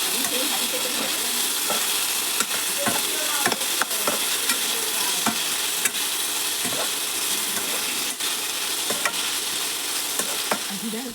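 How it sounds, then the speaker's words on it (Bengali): Potatoes and onions frying with salt and turmeric in a pan, a steady close sizzle under repeated sharp clicks and scrapes of a spatula stirring. "আলু পেঁয়াজগুলো হালকা ভাজা হয়েছে"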